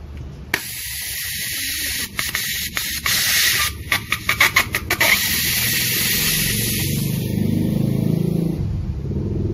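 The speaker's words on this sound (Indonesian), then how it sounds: "Wait, saya akan buka dulu gasnya." Gas hisses out steadily from a Colt 1911 A1 Umarex airsoft pistol, a loud, close, continuous rushing spray with some brief rattling clicks partway through, lasting several seconds before cutting off.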